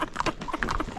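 A horse being ridden on Chandragiri hill in Nepal gives a quick run of clip-clopping hoof steps. They are mixed with outdoor noise and faint voices nearby.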